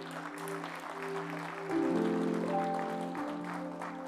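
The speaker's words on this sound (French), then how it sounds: "On applaudit le Seigneur pour ça." Church congregation applauding during a worship service, a steady wash of clapping that swells partway through, with sustained organ or keyboard tones underneath.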